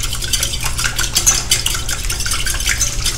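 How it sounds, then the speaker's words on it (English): Eggs being whisked in a bowl for French toast, a fast continuous clatter of the whisk against the bowl, close and fairly loud with no talking. "Now, let's whisk this thing up really quick."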